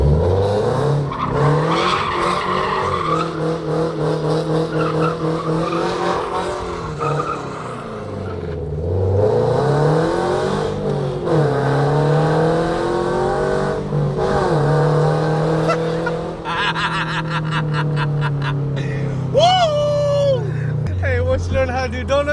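A 2022 GR86/BRZ with a full aftermarket exhaust revs hard and squeals its tires while spinning donuts, the engine note repeatedly rising and falling through loud sweeping pulls, with excited voices mixed in.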